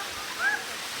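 A waterfall produces a constant broadband rush of falling water, steady and fairly loud for the whole second, with a brief faint whistle-like tone in the middle.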